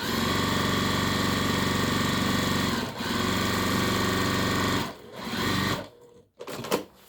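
A sewing machine stitches a second row along an apron, humming in a long, even run close by, with a brief dip, a short restart and a quick stop at the end.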